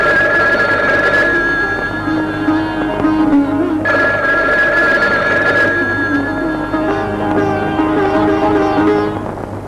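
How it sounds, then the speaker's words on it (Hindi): A telephone bell rings in repeated long bursts with short pauses between, loud and close, with no voices. "इमरान को कहो अल्मास का फोन है।"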